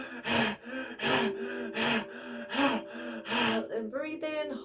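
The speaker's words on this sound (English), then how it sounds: "Then breathe in, hold the breath." A deep inhalation during a yoga breathing exercise, with several strong breathy pulses that sound close and loud, alone without talk.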